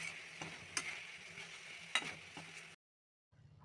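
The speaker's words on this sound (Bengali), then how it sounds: "এবার ভালো করে নেড়ে যেতে হবে যতক্ষণ না একটা পাক আসে।" Coconut and raisin filling is stirred in a pan with a spoon, giving soft scraping and a faint sizzle, with a few sharper knocks against the pan before a brief silence.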